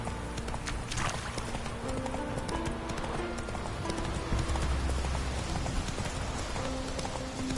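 Horse hooves gallop in The Witcher 3 on PS5, a fast, continuous clip-clop rhythm close up with a faint whinny and rain-like patter in the game soundscape.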